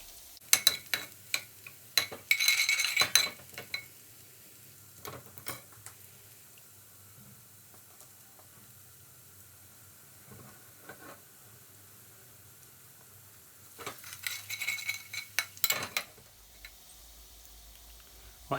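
Garlic frying in a pan over medium heat, a quiet steady sizzle punctuated by a couple of louder clusters of crackling and stirring clatter, otherwise soft and close.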